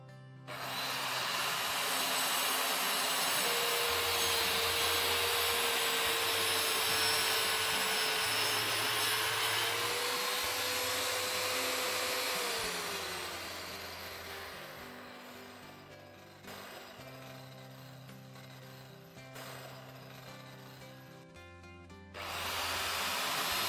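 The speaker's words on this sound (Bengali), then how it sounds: "এভাবে ইট রেখে মেশিনটি তুলুন ও চালান ও এটিকে সম্পূর্ণ গতিতে আসতে দিন।" A brick cutting machine spins up and runs at full speed with a steady high whine and rough grinding hiss, loud at first and then easing to a lower, quieter hum.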